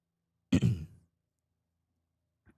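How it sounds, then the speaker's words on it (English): A single man's cough or throat-clearing comes through a live remote call, one short, rough burst followed by silence and a faint later noise. "I heard him cough"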